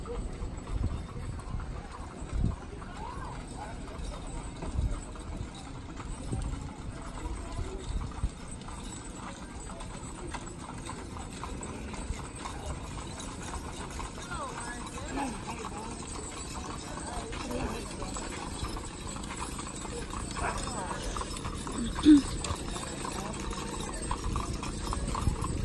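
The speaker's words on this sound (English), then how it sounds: "It's mules." Mules walking at a Mule Day event in Winfield, Alabama, hooves clip-clopping faintly and irregularly in the background beneath ongoing outdoor talk and crowd noise.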